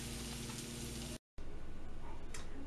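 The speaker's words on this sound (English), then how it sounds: "We're just going to stir this around a little bit over a medium-high heat until they're sweated out a little bit." Onions sautéing over medium-high heat while being stirred give a steady close sizzle with faint scraping. A brief dropout cuts it partway through before the frying resumes, and no one speaks.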